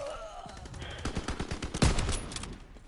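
Gunfire from a World War II shooter game, a dense spread of sharp shots and bursts at moderate loudness, peaking briefly near the middle with one heavier blast among steady background battle noise.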